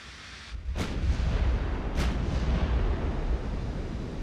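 Heavy naval guns boom from a dreadnought battleship in Ultimate Admiral: Dreadnoughts, with two sharp, loud reports about a second apart, each rolling into a long rumbling echo over a steady low sea-and-engine drone.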